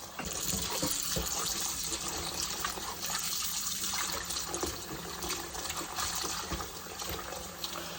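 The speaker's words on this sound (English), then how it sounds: "So for now, we're just going to fill it up with cold water." Cold tap water runs steadily into a bowl, a continuous close splashing gush with no voices, while preparing marinated Korean LA galbi short ribs.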